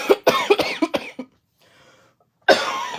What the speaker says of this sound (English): I'm still kind of having all the coughing